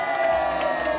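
A crowd at a Pasar Kopro market show cheers and claps for about a second, a steady wash of voices and whoops with a sustained tone running beneath it.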